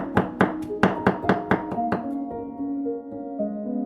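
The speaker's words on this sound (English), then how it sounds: "For the garlic, give it a fine chop." A knife chops garlic finely on a board in a quick, even series of about eight sharp taps, then stops, leaving quiet kitchen tones.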